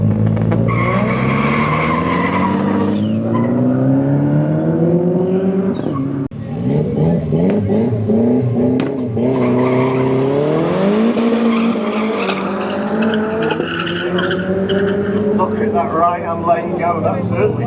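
Front-wheel-drive and four-wheel-drive drag cars launch down the Santa Pod strip, engines revving up and shifting through rising tones with tire squeal, loud and close, while a commentator talks over them throughout.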